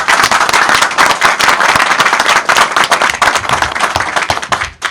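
Loud, dense applause from a courtroom gathering, sharp overlapping claps running steadily from start to finish with no voices.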